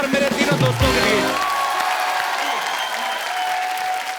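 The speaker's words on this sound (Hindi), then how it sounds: "जोरदार तालियां हो जाए एक बार साइना के लिए और मेरे तीनों दोस्तों के लिए।" A studio audience on a comedy talk show bursts into loud, dense applause for badminton player Saina Nehwal, steady and sustained throughout with a few cheers.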